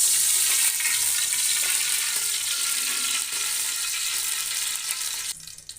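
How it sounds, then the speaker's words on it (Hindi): Ghee heats in a pot for chicken neck biryani, giving a steady, loud, hissing sizzle that continues evenly and drops off slightly at the very end. "इसके लिए 3 से 4 चम्मच हम घी डालेंगे।"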